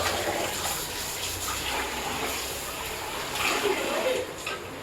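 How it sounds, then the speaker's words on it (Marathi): Biryani rice being washed in water at home, a steady close splashing and rushing of water, like a running tap, continues throughout with no talk. "बिर्याणी तांदूळ धुवून घ्यायचे."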